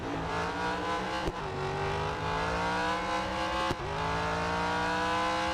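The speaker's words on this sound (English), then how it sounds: "But listen to the sound of this car." Race car engine in Real Racing 3 revving steadily with rising pitch, loud and continuous, with two brief gear-shift dips as it accelerates.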